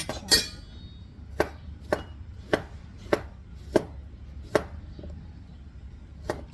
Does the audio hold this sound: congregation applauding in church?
no